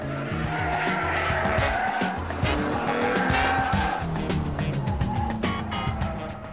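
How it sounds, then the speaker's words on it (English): A souped-up Volkswagen Beetle, keeping its original engine block with an added Porsche cooling fan, roars loudly through curves, its engine note rising and falling with tire squeal and close, continuous mechanical noise. "the souped-up Beetle really shows what it can do. It handles the curves beautifully."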